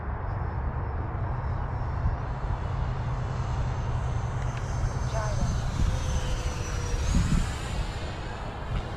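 An FMS F-16 Fighting Falcon 64mm EDF model jet flies past with a steady ducted-fan whine and broad rushing roar that holds at a constant distance and swells slightly near the end, mixed with wind noise.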